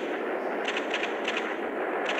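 Explosive blasts from an RPG rocket launcher in a video game, heard as several sharp bursts in quick succession over a constant loud roar, with no talking.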